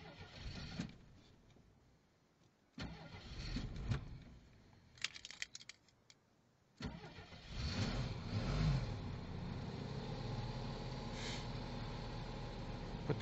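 A Jeep Wagoneer engine cranks in several bursts, sputtering and briefly catching between quiet pauses before running more steadily toward the end.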